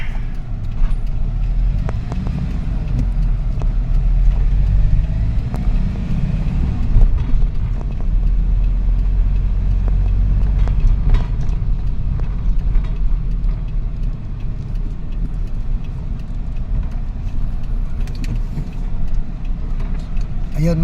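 A convoy of vehicles rolls along a road during a relief run for flooded families, a loud steady low engine and road rumble heard from inside or near the cars, with occasional rattles and voices underneath.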